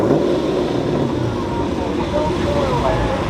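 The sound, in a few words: muscle car revving for a burnout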